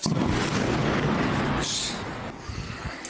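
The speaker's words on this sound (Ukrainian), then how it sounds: "вибухи та роботу ППО чули в Саках, Новофедоровці, Євпаторії, Джанкої та Севастополі" Loud, dense rumbling booms with crackling bursts of explosions and air defence fire in Crimea, continuous and fading slightly toward the end.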